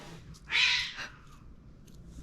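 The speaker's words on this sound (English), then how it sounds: "Our cats, I think, are fighting." Cats fighting indoors give a single harsh yowl or screech of about half a second, fairly loud over a quiet room with a faint rumble beneath.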